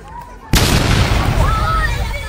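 A person cannonballs into a giant backyard swimming pool, a sudden loud splash bursting in after a brief quiet moment and then a sustained rush of churning, spraying water; people's voices are audible before the jump.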